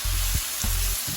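Seafood frying in a pan for a taco veggie stir fry with green beans and herbs gives a steady soft sizzle, with a few low thumps of food being moved or stirred.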